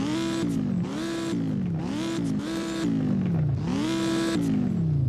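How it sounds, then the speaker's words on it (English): An Audi R8 GT with a V10 engine revs hard in the Driving Empire racing game, repeatedly climbing in pitch and dropping back through several loud, close shifts with no talk. "obviously sounds very, very good. V10 sound."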